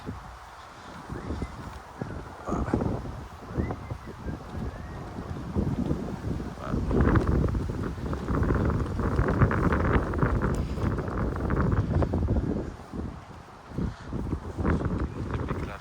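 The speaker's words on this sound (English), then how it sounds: "It's a bit windy to show it with my drone" Gusty wind buffets the microphone in rumbling bursts, growing stronger midway, with faint background sounds beneath, on a cherry and strawberry farm near Utrecht.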